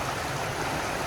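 Steady rushing water of Hazel Creek near Fontana Lake flows nearby, a constant broadband wash with no voices.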